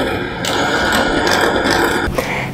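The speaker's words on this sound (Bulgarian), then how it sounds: "Към разбитите яйца и захар ще налея 100 мл олио, 200 мл прясно мляко, студено и разбивам отново с миксер." An electric hand mixer whirs loudly and steadily, close up, beating eggs, sugar, oil and cold milk into a cake batter, with a brief clatter near the end.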